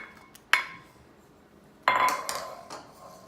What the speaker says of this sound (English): You may need to use your spoon if you're getting it out of a bowl.